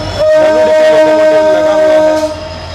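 A train at Londa junction sounds a loud, sustained horn up close, a steady tonal blast lasting about two seconds over a low rumble before it fades.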